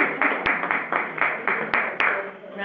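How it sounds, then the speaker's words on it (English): Applause at a Human Services Commission meeting, a moderate group clapping in an indoor room, with irregular overlapping claps and a few sharper close hand strikes over nearly three seconds. "Round of applause"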